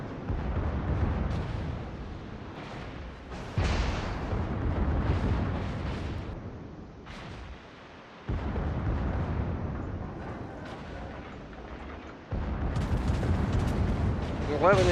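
Naval guns of a Nassau-class warship in a warship video game boom heavily again and again, deep rumbling blasts arriving in several bursts and rolling under a steady spoken commentary.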